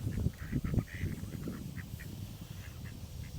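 Ducks honking and quacking close by as they are fed, a cluster of calls early on and then scattered honks over a low murmur.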